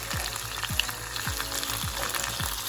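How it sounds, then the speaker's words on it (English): Sofrito and onion frying together in a pan, a steady close sizzle with rhythmic stirring strokes roughly every half second, no talking. "we're just gonna mix this up till the sofrito dissolves and the onion cooks a little bit"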